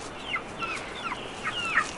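Soft clucks and short calls from a large chicken with an impacted crop come in a few scattered bursts, close by and moderately quiet, with light background noise.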